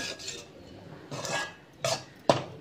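Carrot and beans poriyal being stirred with ground coconut in a pan: a few scraping, clinking strokes of a spoon against the pan, the last one sharp, with quiet gaps between.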